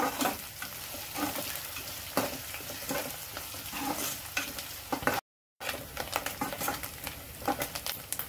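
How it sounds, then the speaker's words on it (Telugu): Dried prawns and onions fry together in a pan for a prawn and radish curry, a busy close sizzle with rapid spoon scrapes and taps, cut by a brief moment of silence, no talking. "ఇదిగోండి, ఎండురాయిలును ఉల్లిపాయలు వేగిపోయినాయి."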